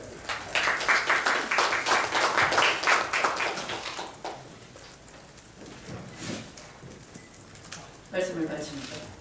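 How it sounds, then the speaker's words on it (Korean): Applause from the audience at a Democratic Party supreme council meeting, loud and dense for about four seconds, then thinning into scattered claps, with a brief louder burst near the end. "국민의 박수 한번 해주시기 바랍니다"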